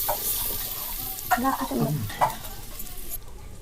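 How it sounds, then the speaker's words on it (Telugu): Onions frying in oil in a clay pot for an Andhra fish curry, a steady close sizzle with a few scraping stirs, a voice faintly in the background. "మేము మొదటిసారిగా ఆయిల్ తో వంట చేస్తున్నాం ఉల్లిపాయలు వేసుకుంటున్నాం"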